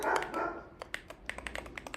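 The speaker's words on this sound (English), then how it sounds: "Sorry for the barking dogs" Dogs bark nearby: a rough burst of barking, then a quick string of short, sharp yaps.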